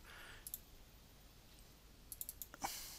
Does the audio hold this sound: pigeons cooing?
no